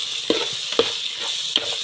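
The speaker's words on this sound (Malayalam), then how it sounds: "അപ്പോൾ ഉള്ളിയൊക്കെ ഒന്ന് വഴണ്ട് വന്നപ്പം ഇതിൻ്റെ അകത്ത് മസാലകൾ ഇട്ട് കൊടുക്കും" Onions sizzling and frying in a pan as masala spices go in, a steady hiss with a few sharp stirring knocks, close and moderately loud, no voices.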